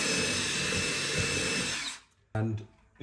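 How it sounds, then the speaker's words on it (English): A power drill boring a small pilot hole into wooden stair tread at a steep angle whines loud and steady for about two seconds, then stops, followed by a brief knock of handling. "you're going to drill a little pilot hole"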